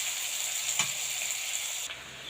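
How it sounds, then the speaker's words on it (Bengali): Chopped green chilies, onion and garlic frying in a pan for a cabbage and shrimp dish, a close, steady hiss of sizzling oil with a couple of brief stirring scrapes and no talk. "কাঁচামরিচ, পেঁয়াজ, রসুন কুচি দিয়ে দিচ্ছি, হালকা করে ভেজে নিব।"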